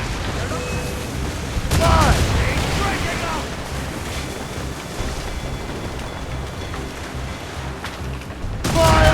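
Ship cannons fire in booming volleys during a naval battle in the video game Assassin's Creed Rogue, with heavy rumbling blasts and crashing noise filling the scene while voices shout over the din.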